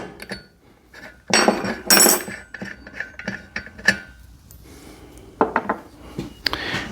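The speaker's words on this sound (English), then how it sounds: "We're going to use the supplied spark plug wrench." A supplied spark plug wrench working the spark plug out of a Proyama PCS68 68cc chainsaw, with close metallic clinks, taps and scraping bursts scattered irregularly, no talking.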